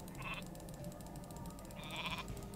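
A sheep in the Warcraft 3 video game bleats twice when clicked, two short nasal calls about a second and a half apart over quiet game ambience.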